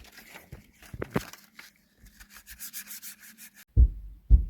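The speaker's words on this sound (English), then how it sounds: "I'm just finishing up the sanding to make it smoother" Sandpaper rubbing over a homemade wooden sword in steady back-and-forth strokes, close and fairly loud, ending with a couple of sharp knocks.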